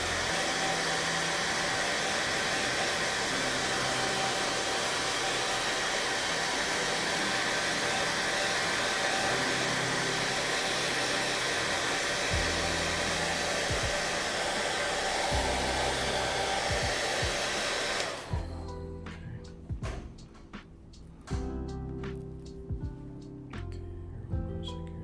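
A hair dryer blows steadily and loudly on parts for tracks and wheels, a continuous whooshing hiss that cuts off sharply near the end, leaving quieter handling noises.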